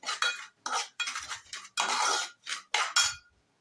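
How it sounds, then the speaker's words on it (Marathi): Barnyard millet and raisins roasting in ghee for upvas varai kheer, heard as a run of bursts of metal spoon scraping and clinking against a pan, close and fairly loud, with short pauses between strokes. "तुपात वरई चांगली भाजल्यावर थोडेसे मनुके भाजून घ्यायचे आहे"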